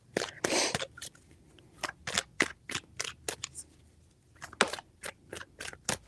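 A deck of tarot cards is shuffled by hand, giving quiet, rapid riffling and snapping bursts in short groups with brief pauses, close and without talk.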